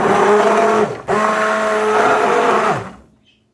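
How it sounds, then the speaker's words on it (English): A kitchen blender whirs loudly while mixing cottage cheese and eggs, cutting out briefly, then roaring again at a steady pitch before spinning down to silence. "I'm going to take my blender and just mix it up."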